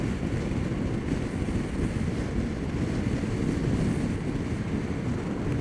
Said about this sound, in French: Donc là, vous devez avoir un petit peu de vent.